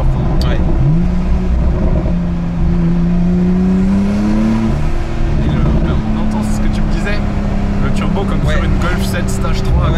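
A Porsche 911 991.2 GTS accelerates hard, the engine note climbing in pitch through a gear as the turbo spools up, loud and close from inside the cabin, with a shift break midway and voices talking over it.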